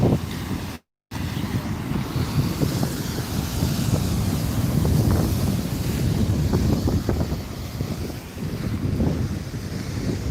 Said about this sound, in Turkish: Deniz aşırı dalgalı burada.